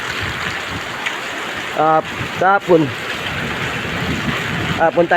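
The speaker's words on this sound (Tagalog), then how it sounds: "ang lakas ng ulan talaga, grabe" Heavy rain pours during a typhoon landfall in Cavite, a steady broadband wash that runs the whole time as a continuous hiss beneath a voice, which cuts in a few times.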